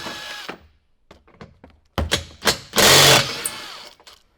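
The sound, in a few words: power tool removing bumper fasteners on RAM 1500 truck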